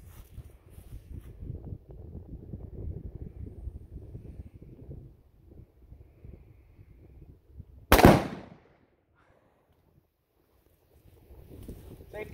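A single loud gunshot aimed at a dead tree cracks out sharply and close, over a soft outdoor background of wind and rustling. Near-silence follows the shot.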